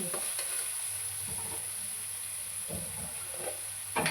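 Ginger garlic paste fries in a pan for street-style egg noodles, a steady faint sizzle and hiss with a few soft stirring scrapes, heard close and without talk.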